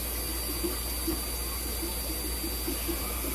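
Tap water runs steadily through a PVC line to flush a fish-room tank fill system, a constant close hiss and rush with no pauses.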